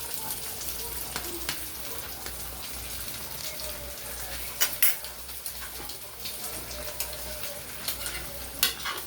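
Chicken adobo frying in a pan while being stirred, a quiet continuous sizzle broken by scraping and clinking of the utensil against the pan, with a few sharper knocks and some faint talk.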